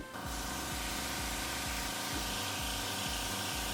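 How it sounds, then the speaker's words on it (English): A makeup airbrush hisses in a continuous steady spray at light pressure, with a rhythmic low pumping pulse from the compressor beneath it, close and moderately loud with no talking. "I'm keeping the airbrush itself pretty far away from my skin so it blends nice and easy"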